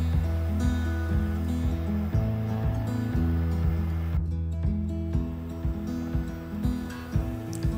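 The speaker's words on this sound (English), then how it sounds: "bring to a rolling boil" Pork ribs in barbecue sauce boil rapidly in a covered pan on an induction cooktop, giving a steady, dense bubbling and churning over a low hum, with no voices.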